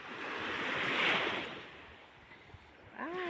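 Sea waves roll onto a beach, a broad wash that swells and fades, with some wind across the microphone and a brief bird call near the end.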